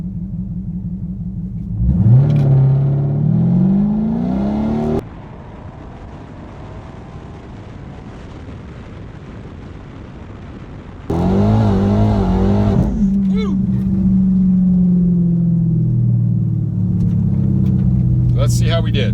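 A 2019 Dodge Challenger Scat Pack or Hellcat launches on a street, its V8 revving up hard with rising pitch through the gears. Loud surges frame a quieter gap where the engine drops back to a lower drone.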